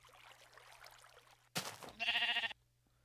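Minecraft sheep giving one short, buzzy, wavering bleat just after a brief noisy thump, over a quiet low hum, with no talking.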